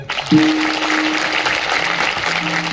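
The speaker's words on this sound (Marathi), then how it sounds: "त्या अन्नदान करणाऱ्या महात्म्यासाठी एकदा टाळी वाजवा." An audience claps at a gathering in honour of a food donor, with broadband applause filling the clip and a steady sustained tone humming beneath it from about a third of a second in.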